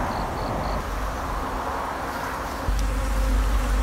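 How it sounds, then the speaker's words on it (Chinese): Honeybees from a long-established colony nesting inside an old abandoned sofa, a steady dense buzzing hum over low background rumble, a few faint beeps early on and a louder low rumble joining near the end. "这窝蜜蜂应该在这边住了很长时间了"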